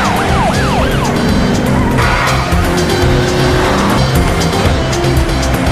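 Car collision in a dramatic chase scene as one car rams another near an ambulance, with loud engines, screeching tire squeals and a siren-like wail over a dense, continuous soundtrack with music.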